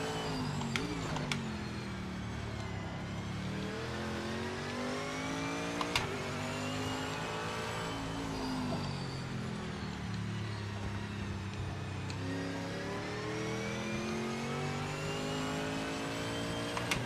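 A race car engine in the Project Motor Racing video game drones continuously and revs through repeated gear shifts, loud and steady throughout, with no talking over it.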